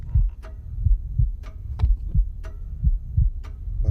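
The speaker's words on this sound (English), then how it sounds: "Can you guys hear that heavy heartbeat sound?" A heavy heartbeat sound effect from the VR horror game Paranormal Activity The Lost Soul thumps in a steady double-beat rhythm, deep and loud, with faint clicks and creaks over it and no talking.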